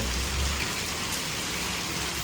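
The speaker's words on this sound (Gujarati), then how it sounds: "આમ લાગે જો વરસાદ ફૂલ આવે છે" Heavy rain falling steadily outdoors during the Navratri season, a dense, loud and continuous hiss of rainfall with no voices.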